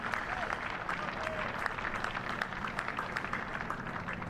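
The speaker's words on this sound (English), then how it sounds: "To the gracious applause here round Sophia Gardens, all the Yorkshire players up on the balcony." Polite cricket crowd applause around Sophia Gardens during a Glamorgan versus Yorkshire County Championship match, a steady wash of distant clapping that is fairly faint and sustained.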